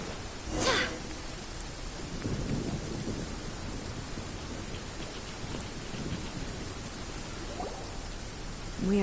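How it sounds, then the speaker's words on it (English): Video game rain from Genshin Impact hisses steadily throughout, with a sharp crack of thunder near the start and low rumbles rolling beneath the downpour. "Why is it raining?"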